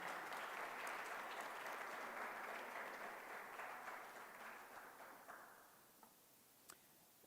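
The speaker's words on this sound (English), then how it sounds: "One more big round of applause for all of the students" Applause from a junior high spelling bee audience for the first place winner, a dense steady clapping crowd that gradually thins and fades out toward the end, with a few scattered last claps.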